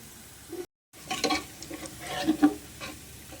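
Browned onions, a kilogram fried in hot oil for chicken qorma, are scooped out of the pan once the flame is off: a soft sizzle with scraping and stirring clatter, broken by a brief silent gap.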